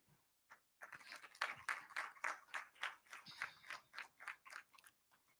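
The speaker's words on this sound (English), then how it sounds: "now is the moment to clap for the founders" Audience clapping for startup founders at the Kenya Startup Festival 2025, dense irregular bursts of handclaps rising and falling over several seconds, fairly faint and distant with no talk.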